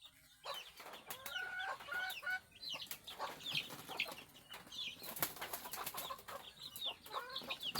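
Domestic desi chickens clucking on a rainy day, many close and overlapping clucks and short calls with occasional wing flaps, steady and busy throughout, with no one speaking.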